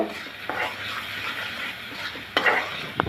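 Spice paste with salt and cumin stirred and fried in a pan, a close steady sizzle with a few brief scraping and clinking strokes of the spoon near the end.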